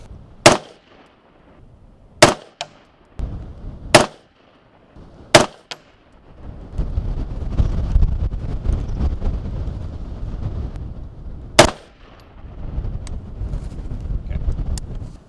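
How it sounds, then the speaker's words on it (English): Sharp, loud rifle shots from a Bushmaster Bravo Zulu firing .223 55-grain ammunition outdoors, six cracks spaced a second or two apart, with wind buffeting the microphone in between. "And so we were shooting 223A, which is 55 grain ammunition"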